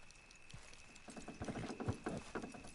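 Horse hooves clatter in a quick galloping rhythm in Red Dead Redemption 2, growing louder midway, with a faint steady tone in the background.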